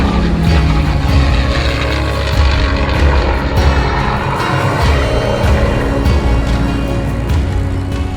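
P-51 Mustang fighter's piston engine running at throttle, a loud, steady propeller drone with a low rumbling hum that holds constant throughout, no speech over it.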